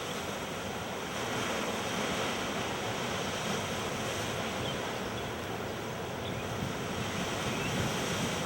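Atlantic Ocean surf breaks below steep sea cliffs off Monhegan Island, Maine, a dense, steady wash of waves mixed with wind roar that runs unbroken and fairly loud throughout.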